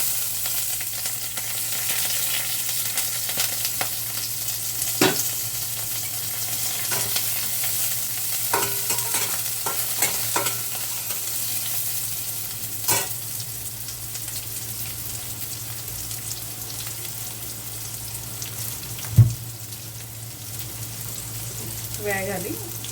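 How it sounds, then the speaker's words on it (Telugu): Hot oil sizzles steadily in a heated kadai as a tempering is fried for ponnaganti leaf dal, with occasional stirring clinks and a sharper pop near the end, and a low steady hum underneath. "పొన్నగంటి కూర పప్పుకి పోపు వేసుకుంటున్నాను."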